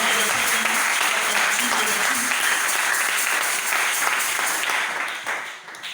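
A church congregation applauds with dense, sustained clapping and cheering voices mixed in, fading slightly at the end.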